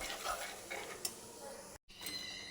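Chili and turmeric powder stirred in a pan, with soft, steady scraping strokes at moderate closeness, a faint clink just past a second in, and a brief dropout near the end.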